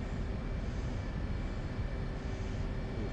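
An F/A-18 jet taking off in a flight combat video game, a steady broadband engine roar holding at an even, loud level throughout with no speech.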